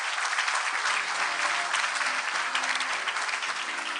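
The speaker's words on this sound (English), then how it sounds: "Please share a big round of applause to ourselves." Dense, sustained applause fills the closing ceremony of a world congress in Seoul, a thick even roar of many clapping hands at constant loudness with no pauses.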